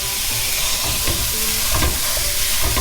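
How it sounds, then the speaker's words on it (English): Meat browns in a hot skillet over medium-high heat while it is stirred, giving a loud, close, continuous sizzle and crackle of frying. "we're just gonna brown the meat over medium-high heat"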